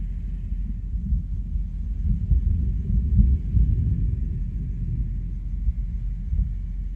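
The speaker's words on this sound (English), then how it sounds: "starting to hear some thunder" Distant thunder during rain in Cocoa, Florida: a low, soft rumble rolling on and swelling faintly for several seconds, with no voices.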